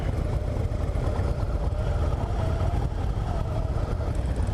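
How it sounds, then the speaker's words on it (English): A 2017 Harley-Davidson Dyna Low Rider S with a 110 cubic inch Twin Cam engine idles nearby, giving a steady low rumble that holds even throughout. "we're rocking and rolling at an idle here"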